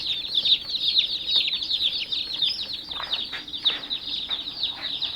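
A flock of chickens, laying hens and meat birds, clucks and chirps continuously nearby, with a busy chorus of overlapping calls and occasional rustling.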